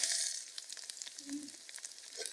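Masoor dal and onions fry in a pan with a soft, steady sizzle and light crackle, a faint low scrape of stirring partway through.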